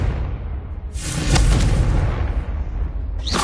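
A Confringo spell in Hogwarts Legacy goes off with a loud, booming explosion. Its rumbling burst swells and lingers for a few seconds, and a short whooshing flare follows near the end.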